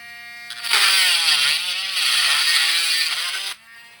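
A high-pitched drill whines steadily for about three seconds, pitch dipping slightly as it bites into a plastic Hot Wheels toy car, then stops abruptly.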